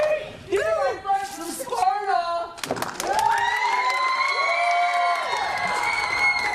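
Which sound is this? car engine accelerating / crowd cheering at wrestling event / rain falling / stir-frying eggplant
crowd cheering at wrestling event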